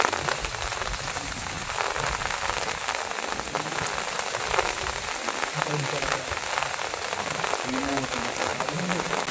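Heavy rain pours down in a dense forest, a loud continuous hiss of drops striking leaves and surfaces, with faint voices now and then beneath the downpour.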